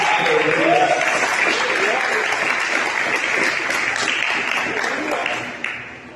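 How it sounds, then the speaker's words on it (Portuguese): A church congregation claps together during a worship service, a steady, full wash of applause that holds evenly and then tapers off near the end, with faint voices mixed in. "Vamos aplaudir, vamos aplaudir."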